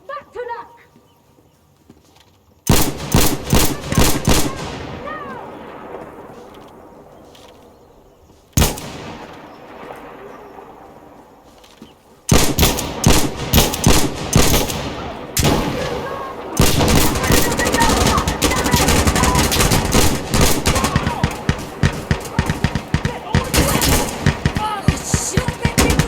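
Loud gunfire from the video game Insurgency Sandstorm: rapid automatic bursts and scattered shots crackle in dense clusters, quiet gaps between them, then sustained heavy firing through the second half, with shouted voices mixed in.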